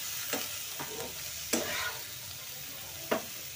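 Orange pieces with crushed dried chillies are stirred in a frying pan, a soft continuous sizzle broken by four or five sharp scraping strokes of the spoon.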